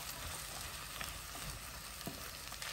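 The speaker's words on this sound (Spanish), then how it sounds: "Dejamos que sofrían ahí nuestro elotito unos 5 minutitos." Corn kernels sauté in a pot for Mexican esquites, giving a steady, close, dense sizzle with small crackles and occasional stirring scrapes, no voices present.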